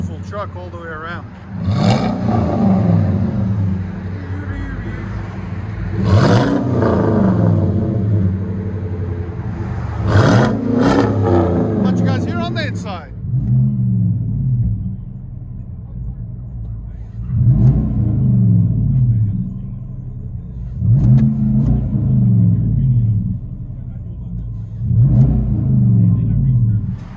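A 2016 Chevy Silverado High Country with a 6.2L V8 and true dual exhaust is revved repeatedly, each throaty, rumbling burst rising and falling in a regular pattern, loud and close.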